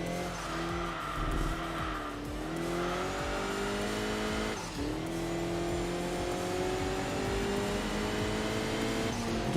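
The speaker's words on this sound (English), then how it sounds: "You can hear the cars going into the braking zone as well." Race cars braking in the racing game Enthusia Professional Racing, a continuous loud engine roar with gliding pitch that dips and rises as the cars slow, plus tire squeal, no talking.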